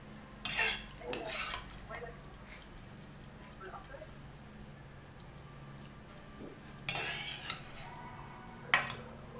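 Boiled potatoes are mashed in a bowl, with a few clinks and scrapes of the utensil against the bowl in scattered bursts under a quiet voice speaking nearby.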